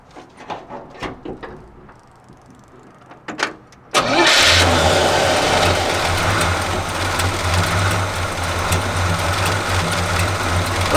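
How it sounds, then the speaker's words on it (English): A 1984 Chevy K20 truck engine cranks briefly with a few faint sputters, then catches at about four seconds and settles into a loud, steady idle that holds close by to the end. "Let's give it a crank and see if she starts up."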